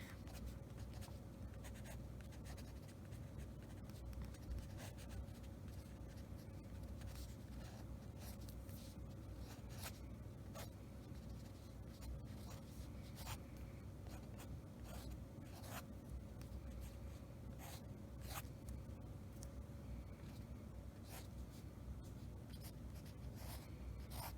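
A fineliner pen scratching on paper while grapes are drawn, a faint close run of short strokes and taps repeating irregularly over a quiet steady background hum, with no voices.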